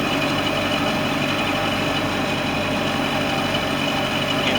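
Sea Ray boat with a MerCruiser 5.0 engine runs steadily at idle, a continuous close, even mechanical drone with low rumble and broadband noise and no speech.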